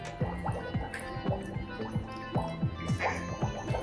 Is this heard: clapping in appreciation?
no